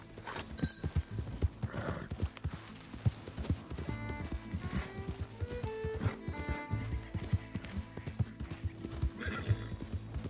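A horse gallops in the Red Dead Redemption 2 video game, rapid rhythmic hoofbeats close by, with whinnies and neighs breaking through and occasional voices beneath.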